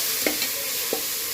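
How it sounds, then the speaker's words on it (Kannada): Onion, tomato, green chillies, coriander and mint sizzle in a hot pan, a close, continuous hiss of frying broken by a couple of soft stirring scrapes. "ಸ್ವಲ್ಪ ಬಾಡಿಸ್ಕೊಳ್ಳೋಣ."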